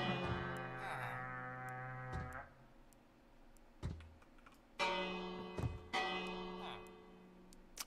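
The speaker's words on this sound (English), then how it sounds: "Stop slapping the bell." A bell is slapped repeatedly in the video game Minecraft, bright ringing tones struck in bursts with sharp clicks between them, each strike sustaining and fading.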